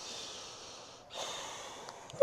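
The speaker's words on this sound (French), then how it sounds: "Très bien, prenez une longue respiration." A long, deep breath during a yoga flow session, soft and airy, drawn in slowly and then released, heard alone and fairly close.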